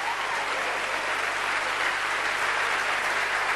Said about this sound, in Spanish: ¿Le gustó eso? Aplaudieron.